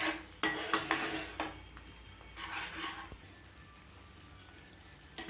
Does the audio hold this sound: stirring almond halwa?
yes